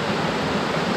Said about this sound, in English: you're right next to the water